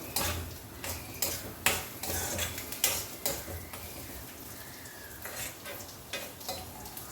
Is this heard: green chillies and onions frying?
yes